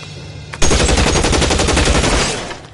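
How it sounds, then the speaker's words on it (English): In the video game L.A. Noire, a sudden loud burst of rapid automatic gunfire breaks out after a brief quiet start, rattling continuously for about two seconds before tapering off. "It means my men are in cover, but that they can still shoot you."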